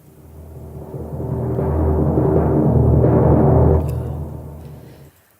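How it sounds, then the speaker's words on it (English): Timpani roll from the Native Instruments Kontakt factory library, shaped by a volume envelope: a low drum rumble swelling gradually from quiet to full over three seconds, holding briefly, then fading out, with no talking. "This is from Native Instruments Kontakt factory library, guys. So yeah, these are good timpani rolls"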